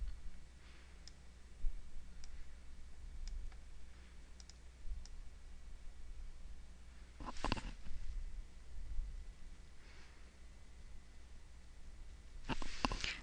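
Computer mouse clicking, faint sparse single clicks scattered across a quiet room tone, with a couple of louder bursts of handling noise.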